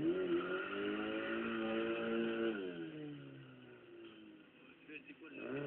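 A VW Golf mk2 G60 engine revs up and holds, then the pitch drops and shifts as it eases off, heard fairly close with people talking over it.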